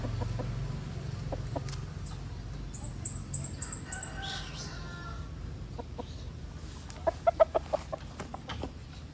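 Chickens clucking in short, scattered bursts, with a higher crowing-like call partway through and a tight run of sharper clucks near the end, all over a steady low background hum.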